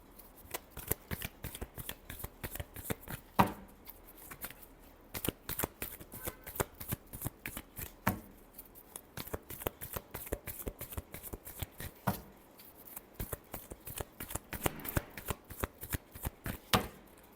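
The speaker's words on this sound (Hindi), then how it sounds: "Last shuffle." Tarot cards are shuffled by hand in quick, crisp riffling bursts that repeat with brief gaps, close and fairly soft, with no talking over them.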